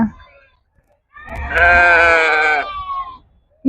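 A single loud, close bleat from a sheep rings out for about a second, with a fainter bleat trailing after it; brief noise bookends the call, at a livestock market in Gudur.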